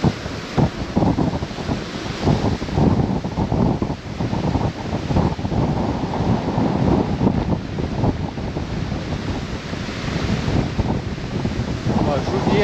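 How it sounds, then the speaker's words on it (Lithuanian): Wind blows across a Baltic seashore at Palanga after a storm, a constant loud rush and buffeting against the microphone, mixed with the broad wash of surf and no clear speech. "O jau čia truputį jaučiasi vėjo."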